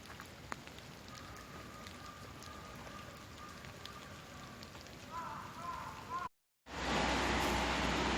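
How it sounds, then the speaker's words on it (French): Rain falls steadily in Kyoto near the Golden Pavilion, a faint, even patter that fills the clip, briefly cut by a dropout near the end before returning louder and hissier. "Il pleut toujours autant."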